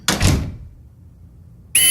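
A door in Michigan: Report From Hell swings open with a short, close thud and creak that fades into quiet, before another bright sound cuts in at the end.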